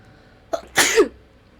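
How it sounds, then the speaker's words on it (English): One close, loud sneeze with a brief inhaled catch before the explosive burst, then quiet. "I'm gonna sneeze."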